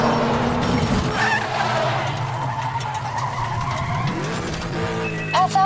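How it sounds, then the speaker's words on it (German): A silver Audi races in Need for Speed The Run, its engine droning steadily while tires squeal and skid in rising and falling whines throughout, loud and close. "Ich fahre den silbernen Audi."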